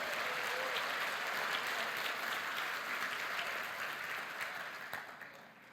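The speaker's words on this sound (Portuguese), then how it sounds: "Você pode dar um aplauso ao Senhor por isso?" Church congregation clapping for the Lord during a sermon, a sustained round of many hands in a large room, fairly soft and distant, tapering off toward the end.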